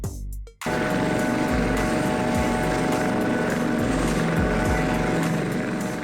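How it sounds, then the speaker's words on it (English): A Coast Guard helicopter runs loud and close, its steady engine whine and dense rotor roar filling the scene after a brief quiet start, with faint periodic thumps from the blades. "Coast Guard helicopter."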